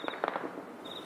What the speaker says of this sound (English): You can hear the gunfire. This is all ground fire.